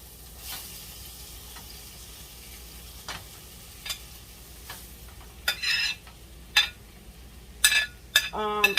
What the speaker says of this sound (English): Okay, you put your butter. Now you're going to add your cabbage.